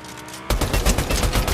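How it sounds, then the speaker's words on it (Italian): A rapid burst of Fortnite video game gunfire breaks out suddenly after a quiet moment, a loud rattling string of closely spaced shots that keeps going to the end. "No, ora mi sparano da dietro, ti giuro."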